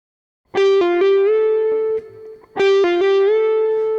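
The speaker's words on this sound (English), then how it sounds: "then back to G, and then we're going to bend back up to A" An overdriven electric guitar plays a short legato phrase twice, quick slurred notes ending in a smooth upward bend that sustains, separated by a brief quiet gap.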